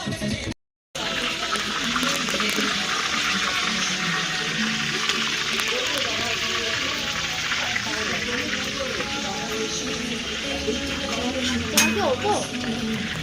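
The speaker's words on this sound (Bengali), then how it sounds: "এই যে বিরিয়ানির আলু ডিম সেদ্ধ হচ্ছে" Potatoes and eggs boiling in a pot for home-cooked biryani, a steady bubbling, watery wash that runs continuously and fairly loud throughout, with faint background activity and no speech.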